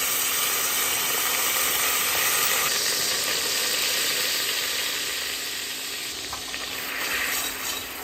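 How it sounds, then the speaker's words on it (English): Flour and leftover lamb fat sizzling in a pan for a quick roux, a loud steady hiss of frying close by with faint stirring, no talk. "I'm gonna take that fat and use this as our oil to make a quick roux."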